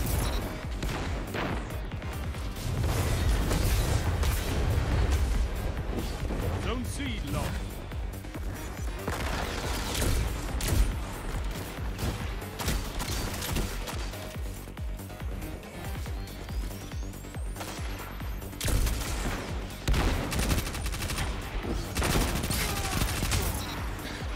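Destiny multiplayer firefight with a grenade launcher and guns, a dense, loud, continuous barrage of shots and blasts sounding throughout, with a voice talking over it.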